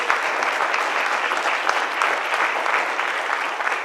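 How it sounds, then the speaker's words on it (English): Steady audience applause filling a school board meeting room, a dense continuous patter of many hands clapping with no voices over it. "can we give David a round of applause in his absence?"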